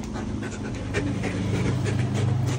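A Belgian Malinois pants steadily and quickly at close range, its breathing continuous over low background rumble.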